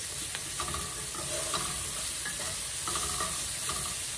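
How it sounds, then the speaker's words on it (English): Garlic sautéing in oil in a pan, a dense continuous sizzle and crackle, close and fairly loud, with faint utensil taps scattered through and no voices. "So we're going to saute this a little bit till the garlic, the oil takes on some of the garlic taste"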